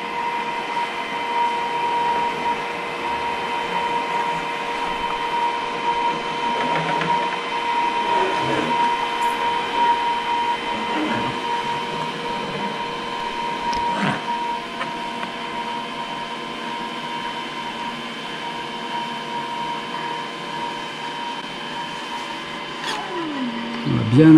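Edge banding machine pushed steadily along a melamine panel while applying PVC edge tape, giving a continuous loud mechanical hum with steady tonal whine and a few small clunks, running throughout without pause.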